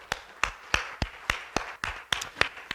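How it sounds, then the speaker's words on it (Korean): Sharp, evenly spaced claps ring out one by one at a church youth winter camp opening service, sounding like a few people clapping in a slow, steady rhythm to encourage the teachers. "우리 박수로"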